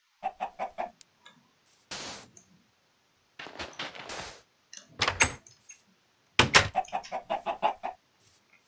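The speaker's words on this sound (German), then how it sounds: "Da hat ein Huhn doch ein Ei gelegt." A hen clucks and cackles in repeated bursts after laying an egg, with loud squawks separated by short silences and occasional brief sharp noises.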